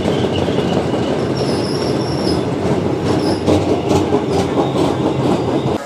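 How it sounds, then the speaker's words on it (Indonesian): Commuter train pulling into Manggarai station in Jakarta, a steady loud rumble of wheels on rails with high metallic squeals and clicking joints throughout, close by. "Ini keretanya baru datang teman-teman ya."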